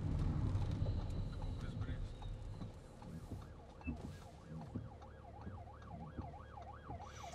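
Emergency vehicle siren with red flashing lights on the road, heard from inside a moving Audi Q7 3.0 TDI, its wailing tone rising and falling steadily over road and cabin noise.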